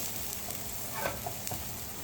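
Quiet stirring of sizzling garlic with a wooden spoon in a stainless steel pot, a soft continuous frying hiss with a few faint scrapes and taps, no speech.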